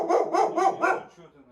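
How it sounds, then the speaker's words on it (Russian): A she-wolf gives four quick, close barks in a row, loud and rough, trailing off into a softer whine. "Что ты на меня гавкаешь?"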